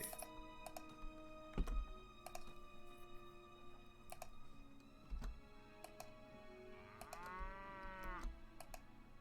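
Cattle lowing inside the Mount & Blade: Warband video game, a few moderate moos over steady game ambience with occasional thunks and clicks.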